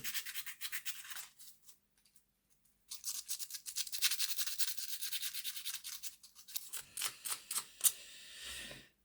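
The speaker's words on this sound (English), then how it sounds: "just going to file all the edges of the sliding parts of the valve gear" Small metal valve gear parts of a Hornby Class A4 model locomotive being filed at the edges. Close, rapid rasping strokes come in several runs separated by pauses, and the final strokes are short and distinct.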